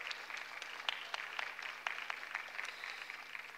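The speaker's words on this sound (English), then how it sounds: "there was a very large clap out here for you" A crowd claps outside Knock Basilica after a choir performance during an evening novena, steady moderate applause heard at a distance for a few seconds with no voices.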